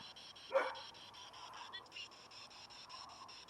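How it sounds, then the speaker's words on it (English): A neighbor's dog gives a single brief, distant bark near the start, faint under low room noise with a steady electronic whine. "it's my neighbor's dog barking."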